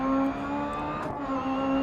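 A rally car engine in the video game DiRT Rally drones loudly, dips briefly in pitch, then picks up again as it shifts down to second gear under braking.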